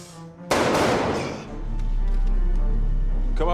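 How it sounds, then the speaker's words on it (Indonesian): A gunshot in a film action scene, one sharp loud blast with a trailing crash, followed by a deep rumbling drone and a faint voice near the end. "Sesaat kemudian terdengarlah suara tembakan"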